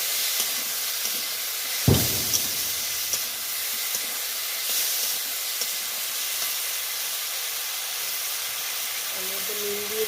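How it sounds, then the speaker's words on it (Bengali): Ginger-garlic paste hits a hot pan while banana flower and prawns cook village-style, giving a steady, close sizzling hiss with one sharp knock near the start and faint clinks toward the end. "এই আদা রসুন বাটাটা দিয়ে দিচ্ছি।"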